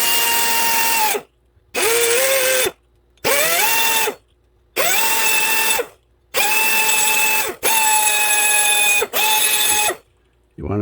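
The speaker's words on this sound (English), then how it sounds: "So now I've got another die grinder with a bit on it, and then I can clean up these little" A die grinder with a bit cleans rust off the front brake parts of a 2007 Honda Ridgeline, running in about seven loud, high-pitched whining bursts separated by short pauses, with the tone dipping briefly as it bites.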